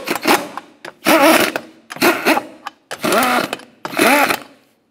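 An impact wrench runs down the wheel lug nuts on a 2006-2011 Honda Civic in five loud, close bursts of whirring and hammering, each about half a second apart, with no speech.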